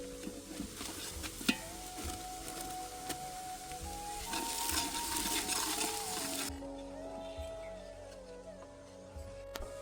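Ginger, garlic and chili paste sizzles as it fries with golden-brown onions in a pan, a steady close crackle with occasional stirring clinks, quieter toward the end.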